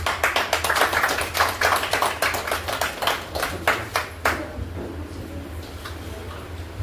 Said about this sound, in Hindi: जोरदार तालियों से स्वागत करते हैं कैलाश सर का